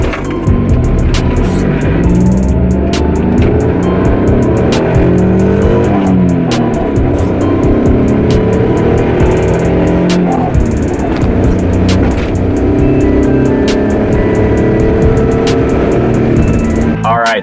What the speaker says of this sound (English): We're taking the race car today.